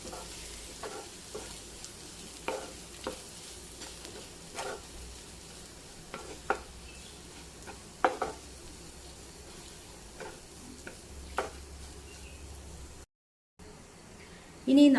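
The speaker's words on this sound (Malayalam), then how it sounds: "ഇനി ഇതൊന്ന് ഇളക്കി കൊടുക്കണം." Coconut paste being stirred into Kerala-style cauliflower thoran in a pan, a quiet sizzle under repeated spoon scrapes and taps at an uneven rhythm, close by, with a brief cut to silence near the end.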